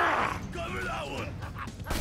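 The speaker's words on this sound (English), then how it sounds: "The noise Creep just made." A creep creature in Borderlands 2 lets out a creaking, groaning growl, close and fairly loud, stretching over about two seconds with a rising screech near the end.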